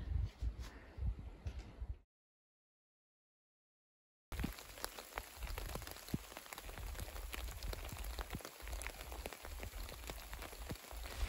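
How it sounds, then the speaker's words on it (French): Outdoor morning rain on the Le Puy-en-Velay pilgrimage route patters densely on surfaces, a steady crackle of drops that cuts out to silence for a couple of seconds before resuming just as evenly. "Bon, bah ce matin, il pleut."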